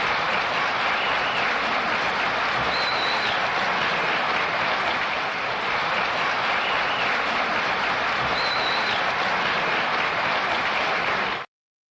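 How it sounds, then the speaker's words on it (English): Steady, dense applause from a live talk-show audience holds at an even level for about eleven seconds, then stops abruptly. "I'm going to have to give you a round of applause for that one"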